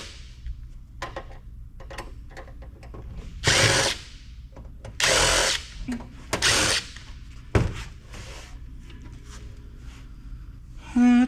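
A power drill backs screws out of an old e-waste device with several short, loud whirring bursts, separated by clicks and handling noises of the parts nearby.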